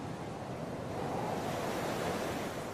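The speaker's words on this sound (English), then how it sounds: "Circling this island is an ocean like no other." Ocean surf around the coast of Sri Lanka, a steady, dense rushing wash of breaking water that holds evenly throughout with no voices.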